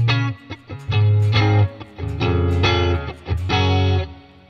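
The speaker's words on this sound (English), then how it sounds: "So this is like a sounds like a short reverb." Electric guitar chords played with a distorted tone through a Quad Cortex short reverb effect, each strum ringing into a brief reverb tail that dies quickly. Loud and close, several strums in uneven rhythm.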